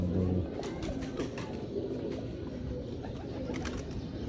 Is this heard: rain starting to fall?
no